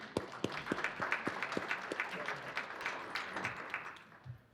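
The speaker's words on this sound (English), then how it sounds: "We'll give you a round of applause for that." Applause from an audience at a cybersecurity conference, fairly faint and distant, with a few sharper claps standing out near the start before it thins and fades.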